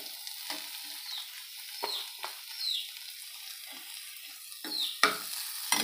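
Masala roasting in a pan with bay leaves while mutton kharada is cooked, giving a steady soft sizzle with occasional scraping stirs.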